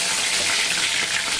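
Jackfruit pieces fry in hot mustard oil with a steady, close, bright hiss of sizzling that holds at an even level throughout, with no voices.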